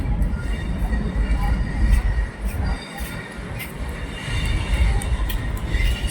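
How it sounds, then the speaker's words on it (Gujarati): A metro train runs along an elevated bridge beside Sabarmati Junction railway station, a steady rumbling roar with rail noise and faint wheel squeal lasting throughout, heard from nearby. "આપ જોઈ શકો છો મેટ્રોની ટ્રેન"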